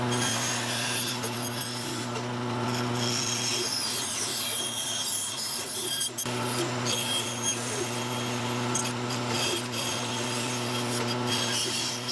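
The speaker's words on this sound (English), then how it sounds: "I can just taper them off and sand them however thin they need to be" A handheld sanding tool working down the thin fins of a carved wooden fishing lure, a steady loud abrasive whir close by with a brief dip partway through.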